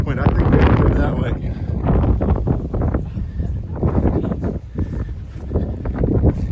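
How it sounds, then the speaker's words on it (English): Strong gusty wind near a forming tornado buffets the microphone with loud, roaring rushes, while people talk faintly underneath. "But it is sucking the wind from up above us."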